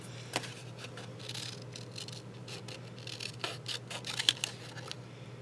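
Scissors cutting around the edges of a paper cover piece for a handmade book, giving a run of short crisp snips and rustles close by, irregular in rhythm and fairly quiet.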